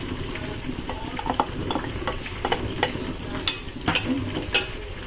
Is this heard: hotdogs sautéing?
yes